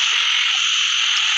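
A dense, continuous chorus of red-legged frogs croaking at night in the rain, loud and unbroken, with no voices.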